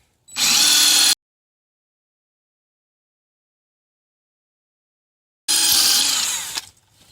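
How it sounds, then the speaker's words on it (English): A power drill drilling into brick siding whines loudly in two separate bursts, a short one and then a longer one, with silence between them. "We'll go ahead and start drilling the bottom."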